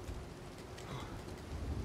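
Dense rainfall hisses without pause over a deep thunder rumble that swells slightly near the end, a brief stormy stretch in the game Uncharted 4 with no speech.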